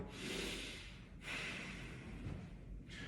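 Slow, deep breaths in and out during a back-muscle stretch, two long airy exhales separated by a brief pause, soft and close with no speech.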